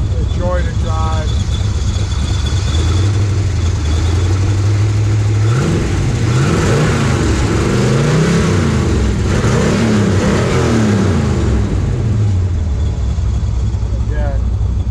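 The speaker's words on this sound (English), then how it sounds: "Love to hear this idle." A Factory Five Cobra replica, titled as a 1966 Ford, idles loudly and close by with a steady throbbing burble, then revs in several rising and falling swells before settling back, with a person talking over it.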